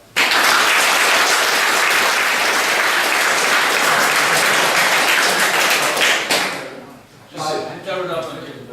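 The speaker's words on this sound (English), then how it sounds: "Round of applause for that." A loud, dense round of audience applause at a Eurocon 2013 convention interview fills the room for about six seconds, then thins into scattered clapping as a voice begins talking.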